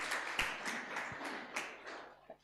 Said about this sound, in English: round of applause for this gentleman